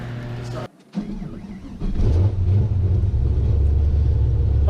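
A 1000 rwhp car, over twenty years old, settles into a deep, loud engine rumble after a brief pause, the low drone growing steady and close as people talk over it.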